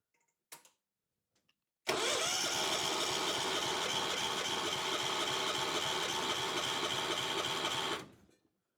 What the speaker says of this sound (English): I pulled the spark plug off just so it won't start. I just want to turn the motor over